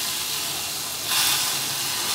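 Hot tempering poured into moong dal with spinach lets out a broad, steady sizzle and hiss that suddenly grows louder halfway through, close and continuous, with no talking.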